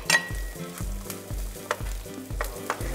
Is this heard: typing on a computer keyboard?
no